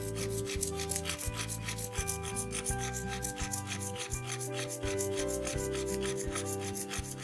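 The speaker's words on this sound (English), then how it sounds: "I use this 100 grit sandpaper to get a fine quality powder" Graphite rubbed against 100 grit sandpaper to make fine powder gives a close, gritty scraping in quick repeated back-and-forth strokes, with no talk.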